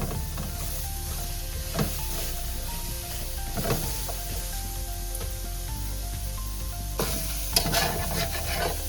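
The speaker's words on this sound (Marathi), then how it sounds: "कांदा थोडासा लालसर झाला की याच्यामध्ये आपण तेल टाकून घेऊया" Onion frying in oil in a pan for a dry clam masala, an even hiss of sizzling broken by occasional scraping stirs, close up and steady with no one talking.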